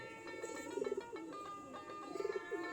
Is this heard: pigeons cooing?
yes